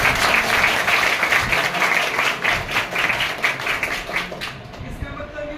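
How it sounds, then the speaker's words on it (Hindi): An audience at a school laboratory inauguration applauds for a physics teacher, sustained rhythmic clapping from a crowd that thins and tapers off near the end, with some voices beneath. "एक बार अमित सर के लिए ताली बजाएं।"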